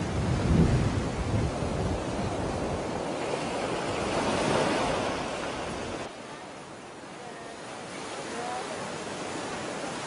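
Ocean waves break continuously against the rocky shore at Tanah Lot temple in Bali, a loud, close surf roar with wind buffeting that eases slightly partway through.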